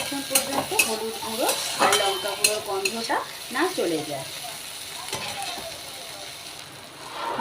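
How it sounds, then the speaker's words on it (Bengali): Turmeric and chili powder fry in oil in a pan for a Bengali home-style dish, with a soft sizzle under repeated scraping spoon strokes that come in uneven bursts, close and moderately loud. "এটা এবার একটু ভেজে নিতে হবে"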